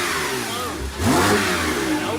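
A Porsche 991.2 Turbo engine fires up and revs, the steady idle swelling into a loud, close rise in pitch before settling back to a strong, even drone.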